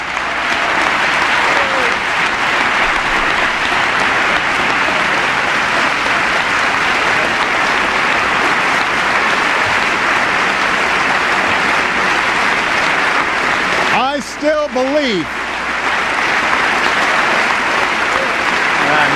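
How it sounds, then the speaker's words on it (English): A large crowd at a political speech breaks into steady, loud applause that fills the whole stretch, dipping briefly as a voice cuts in near the end before the clapping swells again. "Not a lot of applause from that side."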